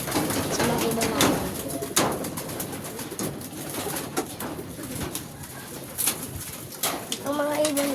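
Released pigeons coo in low, repeated throaty phrases, close and fairly loud, among rustling and faint background noise.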